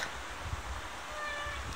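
A soft, faint cat meow, quiet and close, with light rustling and low background noise around it.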